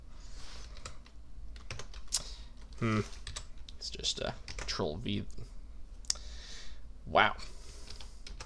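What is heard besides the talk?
typing on a computer keyboard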